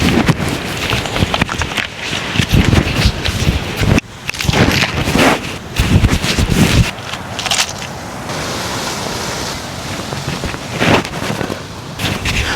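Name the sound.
strong Santa Ana windstorm blowing into microphone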